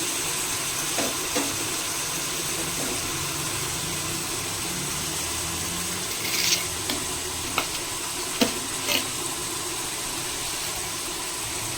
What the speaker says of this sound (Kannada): ಸ್ವಲ್ಪ ಫ್ರೈ ಮಾಡ್ಕೊಳ್ಳೋಣ. ಸ್ವಲ್ಪ ಫ್ರೈ ಆಗಿ ಚೆನ್ನಾಗಿ.